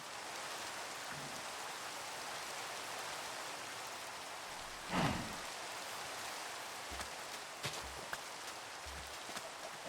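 Rain in the game Minecraft, a soft steady hiss of falling drops heard faintly throughout, with a brief louder rustle midway and a few small thumps toward the end.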